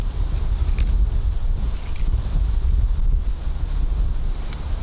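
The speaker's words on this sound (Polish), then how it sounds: "Strasznie wieje." Strong wind gusts buffeting the microphone out on a frozen lake during ice fishing, a steady loud roar with deep rumble throughout and no one talking.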